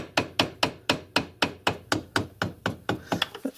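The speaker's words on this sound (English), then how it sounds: "it's just a matter of tapping the shaft on gently" Gentle hammer taps drive a shaft into place on a Myford ML7 lathe: about fourteen evenly spaced, sharp knocks close by, each with a short metallic ring, continuing for several seconds with no talk.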